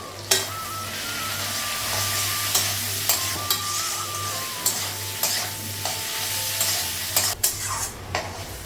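Cumin seeds and turmeric crackle and sizzle in hot oil in a pan, a loud, close, steady frying hiss punctuated by sharp spoon knocks against the metal, with a faint hum underneath and no talk.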